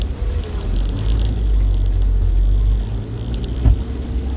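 A 4WD vehicle engine labouring up a steep track in low second gear, with a loud steady low rumble, wind buffeting on the microphone and a brief knock near the end, no talk.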